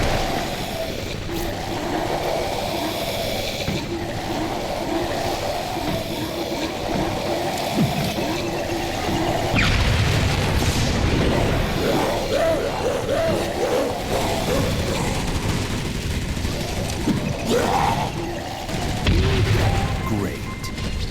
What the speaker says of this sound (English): Use your grenades to blow these freaks to pieces.